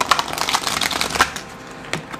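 Oversized tarot cards being rifle shuffled, a close, dense flurry of fluttering paper riffles with soft snaps, loud at first and tapering off toward the end.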